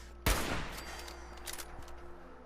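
Gunfire in the video game Fallout 4, a single loud close shot followed by a ringing decay and faint further reports.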